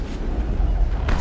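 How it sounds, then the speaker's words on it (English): In the video game Mass Effect, a shotgun fires during a fight with Thorian creepers. The blast comes as a loud, deep boom with a rumbling tail, then a fresh burst at the end. "Shotgun."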